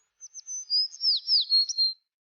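A sparrow chirps alone in a quiet setting: a quick string of about eight high, thin tweets in a lively, slightly uneven rhythm lasting under two seconds.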